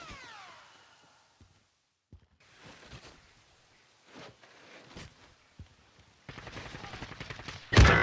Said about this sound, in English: They're sniping me.